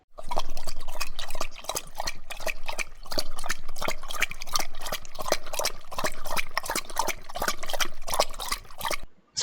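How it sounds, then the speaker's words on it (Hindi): Moving water splashes and laps steadily as an animal drinks from it, a continuous close, rhythmic sloshing with repeated wet slurps throughout. "यहाँ पर एक एनिमल इस पानी को कंज्यूम कर रहा है"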